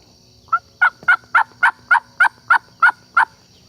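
Wild turkey gobbling during a spring turkey hunt, a loud rapid burst of about ten sharp, evenly spaced gobble notes carrying over quiet woodland, with no talking.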